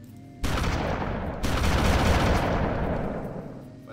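Rapid sustained gunfire in the Hard Truck Apocalypse video game, bursting in loud and dense, then intensifying into a continuous roar of shots that slowly tapers off.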